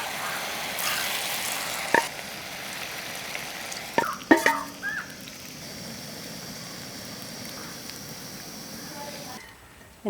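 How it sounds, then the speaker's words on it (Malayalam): Cauliflower pieces dropped one by one into hot coconut oil give a steady, soft frying hiss, broken by a few sharp pops and clinks near the middle before the sizzle fades out. "ഇതാ നല്ലോണം ചൂടായ വെളിച്ചെണ്ണയ്ക്ക് പെറുക്കി പെറുക്കിയാണ്ട് ഇട്ടുകൊടുക്കാം"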